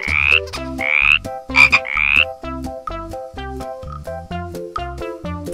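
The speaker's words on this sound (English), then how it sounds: "The sound of frog is..." A frog croaks in a series of loud, close, rasping calls, several pulsed croaks at first, then a run of shorter repeated croaks with no voices over them.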